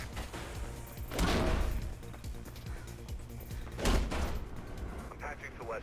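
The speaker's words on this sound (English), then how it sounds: "I can hear gunshots" Gunfire rings out in the 2008 Mirror's Edge video game: two loud, sharp bursts a few seconds apart stand out over a busy background with voices around them.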